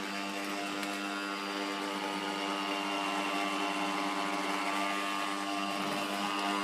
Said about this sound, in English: Once you've added all the liquid, then you can add the speed of your mixer up a little bit